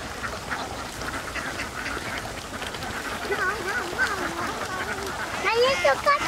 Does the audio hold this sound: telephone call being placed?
no